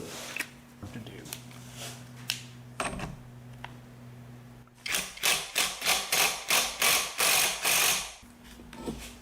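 A wrench ratchets on the bolts of a 12-bolt rear end during a rebuild, a quick series of about ten sharp clicking strokes following a quieter stretch of low hum and scattered taps.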